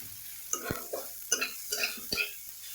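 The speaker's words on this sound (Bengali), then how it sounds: "দিয়ে এটাকে আমি একটু নেড়ে চেড়ে ভেজে নেব।" Ginger and garlic paste is stirred and fried in mustard oil, a soft sizzle under repeated scraping strokes of a spoon in the pan, close and fairly quiet.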